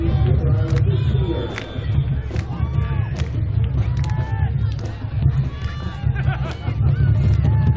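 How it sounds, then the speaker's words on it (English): A college football stadium crowd murmurs and calls out steadily while a band plays underneath, with a loud, continuous low rumble of the crowd noise and scattered shouts and voices throughout. "As the band's trying to get the crowd pumped up now."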